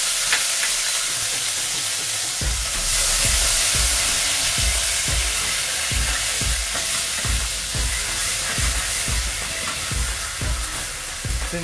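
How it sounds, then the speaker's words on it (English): Ginger garlic paste sizzling in a hot pan while being stirred, a loud continuous frying hiss broken by a regular rhythm of spoon scrapes and pushes. "I'm going to add 2 teaspoons of ginger garlic paste"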